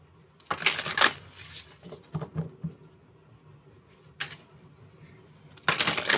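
A deck of oracle cards is shuffled close by in several quick riffling bursts, with quieter pauses and light card handling between them.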